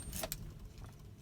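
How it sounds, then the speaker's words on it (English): Car keys are pulled from the ignition of a 2014-or-newer Chevy Silverado, giving a brief, close metallic jingle followed by quiet cabin hum. "Keys out."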